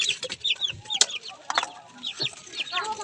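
A hen clucks repeatedly just after laying an egg, giving a close, busy series of sharp, rising clucks and squawks with brief rustling between them.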